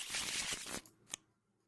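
A deck of location cards from the board game Ani-Mayhem gets shuffled by hand, a brief close riffling flutter that stops abruptly, followed by a couple of soft taps, with no voices.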